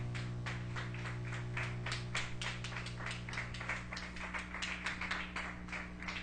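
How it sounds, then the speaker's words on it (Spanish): A church congregation claps steadily and rhythmically over a sustained low musical drone, the claps even and continuous throughout. "Denle un fuerte aplauso a Cristo por eso."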